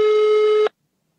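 A single telephone busy tone sounds, one steady beep lasting under a second before cutting off to silence.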